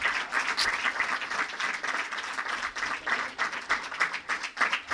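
An audience at a book launch event bursts into dense, sustained applause for poet Anil Chavda, many hands clapping at once, fairly close and continuous for several seconds.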